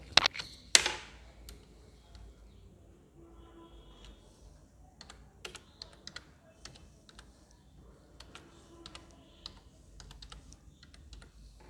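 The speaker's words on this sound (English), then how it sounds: "Sorry, I need to delete it first and then I will start typing" Keys tapped on a computer keyboard in irregular bursts, soft and close, with a couple of louder clicks at the start.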